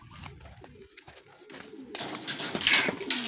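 Racing pigeons at a derby loft cooing, soft low throaty coos up close, followed by louder rustling and fluttering.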